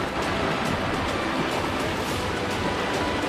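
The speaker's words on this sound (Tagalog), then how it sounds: "Matawid na tayo ngayon sa malakas na agos na ilog." A continuous, loud rush of fast-moving water, dense and unbroken throughout, like a strong mountain river churning over many rocks close by.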